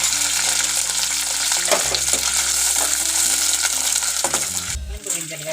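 Sliced onions with curry leaves frying in oil for a high-protein curry, a continuous loud sizzle with stirring scrapes, a low hum underneath and a brief metallic clink near the end.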